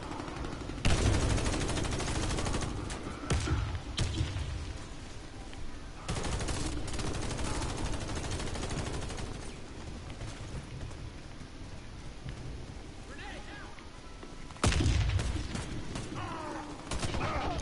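Heavy gunfire from a powerful gun in the video game Warface, loud bursts rolling through the whole stretch with sharp peaks near the start and again late, mechanical clatter mixed in.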